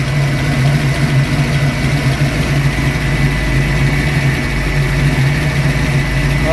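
A 1965 Ford Mustang with a 347 V8 and roller rockers idling: a loud, steady, close engine rumble with a constant low hum that holds for the whole stretch, with no talk.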